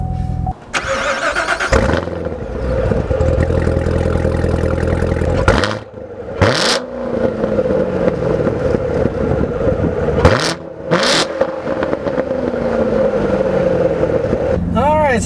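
A 2016 Chevrolet Corvette Z06 engine cranks and roars to life, then idles loudly with several sharp revs rising and falling, all close and powerful throughout.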